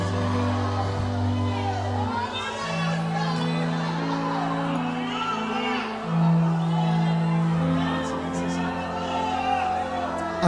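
A church congregation cheering and shouting during a sermon by pastor Marco Feliciano: a sustained crowd roar of whoops and yells with a steady organ-like drone underneath, loud and continuous.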